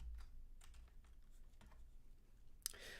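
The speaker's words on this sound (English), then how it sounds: "Let's type in Champ." Fingers tap out a short search on a computer keyboard, the soft key clicks sparse and fairly quiet over a low room hum, ending in one sharper keystroke.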